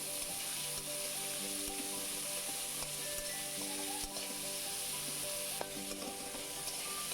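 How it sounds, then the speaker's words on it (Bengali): Shrimp fry steadily in a pan with ginger, garlic and spices, a continuous loud sizzle with occasional stirring clinks and scrapes, no voices over it. "আমার চিংড়ি একটু ভেজে নিলাম"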